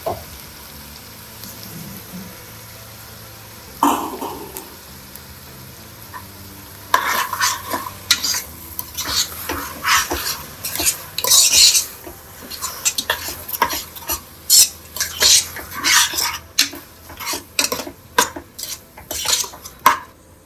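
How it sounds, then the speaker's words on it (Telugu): Tomato paste being stirred into a pot of chicken keema pulao cooking in a pressure cooker: near-silence at first, then from midway a busy run of spoon scrapes and metallic clinks against the pot over a soft sizzle, with no talking. "ఇప్పుడు టమాటా పేస్ట్ వేస్తా"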